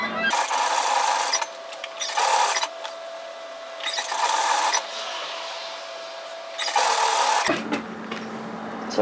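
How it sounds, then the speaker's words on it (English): A domestic sewing machine stitches through a sweater collar in several bursts of steady whirring, each lasting about a second or more, with brief pauses between them and a quiet hum continuing underneath. "just flattening the collar, making sure that folds all the way on the top edge and stitching it through"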